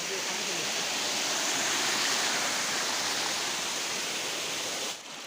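Antharganga waterfall stream near Hyderabad, a loud, dense, continuous rush of falling and flowing water, close and steady throughout, dropping slightly at the very end.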